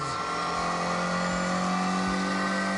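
A twin-cam 1.6-litre car engine in The Grand Tour video game revs at a high, steady pitch with a buzzing, strained tone, sustained and loud throughout with no voices.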